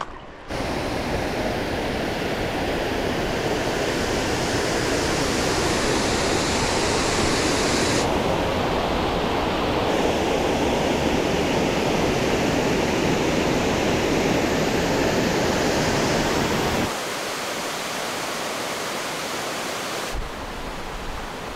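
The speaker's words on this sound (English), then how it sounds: "It's like 300 foot waterfall." Rainbow Falls, a waterfall roughly 300 feet high, roars as a loud, unbroken broadband rush that fills the whole stretch, shifting slightly in tone partway through and dipping briefly near the end.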